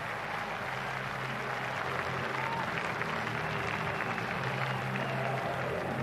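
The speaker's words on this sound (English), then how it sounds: "Big roar from the crowd signals a 6, so does Ray Julian." Big crowd roar and applause at a 2001 England versus Australia one-day cricket match in Bristol after a six, a dense steady wash of clapping and cheering heard from within the ground.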